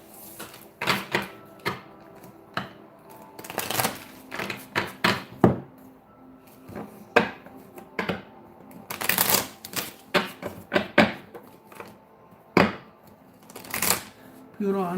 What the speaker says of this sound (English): Let me shuffle this up so I don't get the same cards out again.